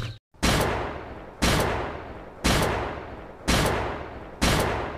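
Five loud, sharp cowboy pistol gunshots in a video game at an even, deliberate pace, about one per second, each with a short ringing decay.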